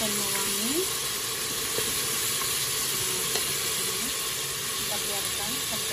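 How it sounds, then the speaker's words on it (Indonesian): Sliced onion and garlic sautéing in a pan for Arab-style fried rice, giving a steady, close hiss and sizzle that runs without pause. "kita taruh bawang bombay, bawang putih yang sudah diiris tadi ya pemirsa. Kita tumis"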